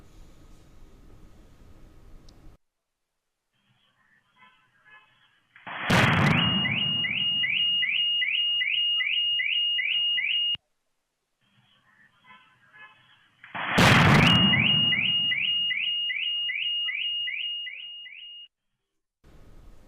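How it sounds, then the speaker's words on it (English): The Prashant Vihar blast recorded on CCTV: two loud, sudden bangs about eight seconds apart, each followed by several seconds of sustained noise and a repeating alarm-like pulsing tone, with near silence between them. "the exclusive CCTV footage of the Prashant Vihar blast where a loud explosion can be heard"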